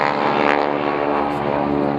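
Display aircraft at the Lowestoft air show droning overhead, a steady buzzing propeller tone holding fairly loud throughout, with a voice briefly audible underneath.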